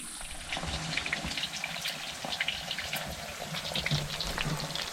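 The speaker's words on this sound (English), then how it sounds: "Eggs in bacon grease." Eggs fry in hot bacon grease on an off-grid cabin stove in the Colorado mountains, giving a continuous close, even sizzle and crackle with no pauses.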